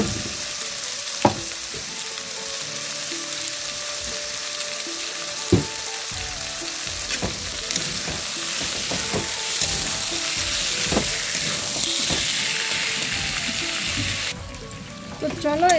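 Village-style desi chicken sizzles and fries in a cooked spice masala, a steady close hiss broken by sharp clicks and scrapes of stirring throughout.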